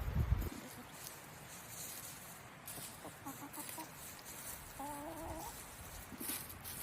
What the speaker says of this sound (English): Our chickens are enjoying spring as much as we are.